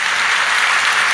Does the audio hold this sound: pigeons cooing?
no